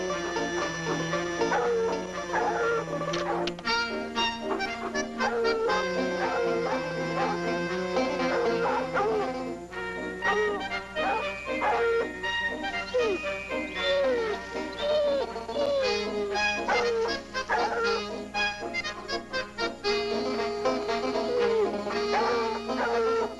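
A bluetick coonhound gives repeated yelping barks and whimpers in a long, busy stretch. Other sound runs under the barking, and brief talk is mixed in.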